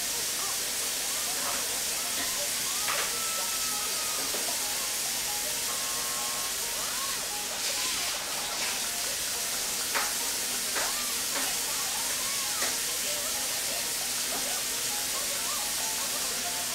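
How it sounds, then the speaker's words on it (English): Pork boiling in a pot on a home kitchen stove for borscht, a steady broadband bubbling hiss with scattered small clicks and clinks running throughout, close and fairly even in level. "So now I'm boiling pork."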